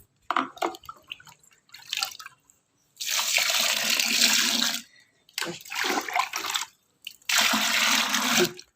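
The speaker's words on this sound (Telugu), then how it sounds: "ఇప్పుడు దీంట్లో కొంచెం నీళ్ళు పోసుకోవాలి" Water is poured in bursts into a cow urine mixture for a garden remedy, three separate gushing pours with short splashy gaps between, close and fairly loud with no talking.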